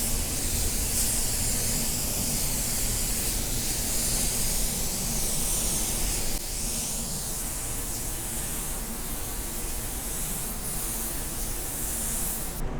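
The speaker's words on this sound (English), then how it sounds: "We'll spray it on and then we'll let it dry." A spray gun lays down a clear base coat in a steady, loud hiss of atomized spray that runs continuously, dipping slightly in level midway, with no talking.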